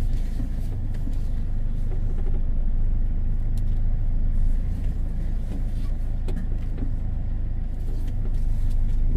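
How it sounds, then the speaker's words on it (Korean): A tractor engine rumbles steadily and loudly as it pushes a front roller over ground covered in weed mats, a constant close drone with no breaks. "트랙터로 강제로 로다로 밀어버렸더니"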